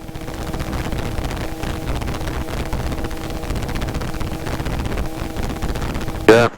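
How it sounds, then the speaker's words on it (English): Gusty wind buffets the microphone with a constant rough roar under a droning engine, ending in a sudden louder burst. "Yeah, pretty windy here."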